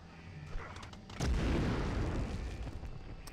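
A grenade explodes in the Medal of Honor video game, a deep booming blast with a rumbling tail that rises out of game ambience and fades slowly. Light voice chat can be heard.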